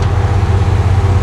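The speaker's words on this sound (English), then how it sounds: "in race mode, what's gonna happen is the flipper flaps up, the flapper flips up, and the exhaust just opens" Chevrolet Malibu exhaust with the valve flapper open in race mode, a steady low rumbling drone at close range, loud and continuous with no voices.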